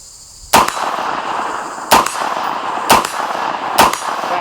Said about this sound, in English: burn up that ammo and beat the shit out of that steel down there